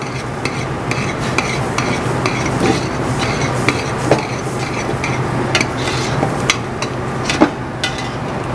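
Flour being stirred into softened vegetables in a pan to form a paste, with repeated scraping and knocking of a utensil against the pan over a low sizzle, close and fairly loud, no talking.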